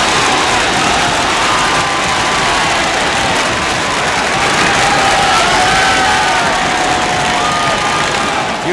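A loud, roaring football crowd at a 1969/70 Queens Park Rangers match erupts and holds a sustained cheer for a home goal, a dense wall of voices filling the whole stretch.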